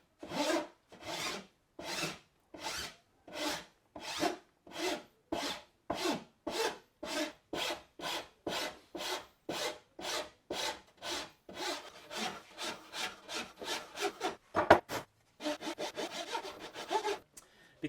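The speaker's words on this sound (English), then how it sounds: "I'm using the Flat Bastard, which is a common file, it takes a while." A flat bastard file rasps by hand along a wooden sword in steady back-and-forth strokes, close and even, roughly two per second, speeding into quicker, shorter strokes toward the end.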